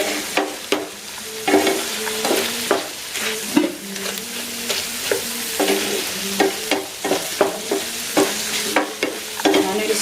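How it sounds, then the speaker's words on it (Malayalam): Chilli gobi being stirred in a frying pan, a continuous sizzle broken by repeated scraping strokes of a spoon in an uneven rhythm, close and fairly loud with no talking. "കുറച്ച് നേരം ഇങ്ങനെ ഇട്ട് ഇളക്കണം അല്ലേ?"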